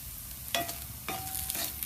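Garlic fries in oil in a pan for potato mezhukkupuratti, giving a soft, constant sizzle broken by two short stirring scrapes.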